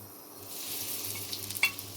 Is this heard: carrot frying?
yes